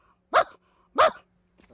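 A man imitates a single dog barking from far away, giving two short, clear barks with a pause between them, and a third bark starts at the very end.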